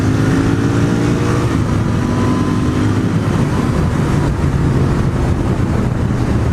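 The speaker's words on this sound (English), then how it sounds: "It's a Royal Enfield Interceptor, naked version with a lot of power" A Royal Enfield Interceptor twin motorcycle accelerates, its engine a loud, steady, close drone with a faint rising tone near the start and no voices.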